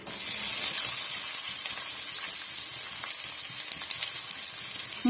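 Chopped onions added to hot oil for a chana masala gravy, a loud bright sizzle right from the start that settles into a steady crackling fry, close up with no speech.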